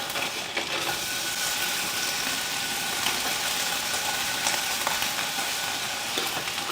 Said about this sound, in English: brown off this bacon and give it that nice sort of crispy bacon look that we like